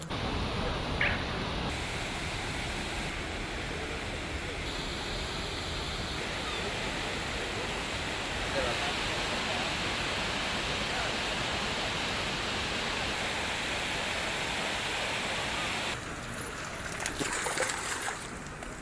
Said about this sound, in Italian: Ci sono le canaline che sono piene d'acqua